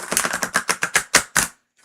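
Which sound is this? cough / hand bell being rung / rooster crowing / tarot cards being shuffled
tarot cards being shuffled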